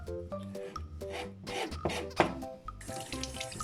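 Tap water splashing into a sink while a sardine's belly cavity is rinsed out by hand, with intermittent wet rubbing and trickling sounds over a soft background music track.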